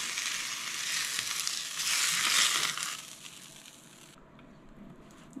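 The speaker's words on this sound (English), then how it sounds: "put the cheese directly on the pan and then it instantly becomes melty" Cheese placed directly on a hot pan sizzles and crackles as it melts, a bright close hiss that swells and peaks, then fades into a quieter sputter toward the end, with no talking over it.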